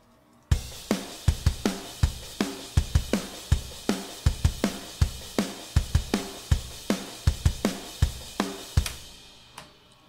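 A programmed drum kit plays a fast, driving punk beat with punchy kick and snare hits and steady cymbals, loud and continuous.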